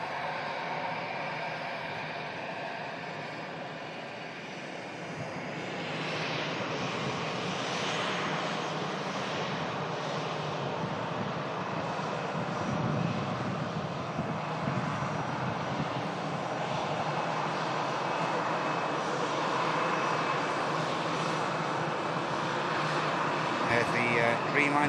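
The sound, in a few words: Boeing 787 Dreamliner airliner engines, plane spotting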